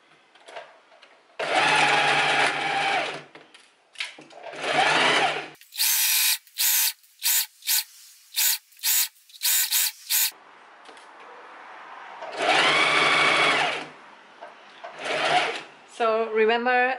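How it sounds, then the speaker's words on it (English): Sewing machine stitching a linen dress near the fabric edge, running in several bursts of a few seconds with short rapid stitch runs between, and a person speaking in the pauses. "we're gonna start sewing and we're gonna sew pretty close to the edge"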